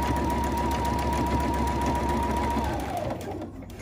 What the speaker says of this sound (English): Line everything up just so that we can sew over everything nicely.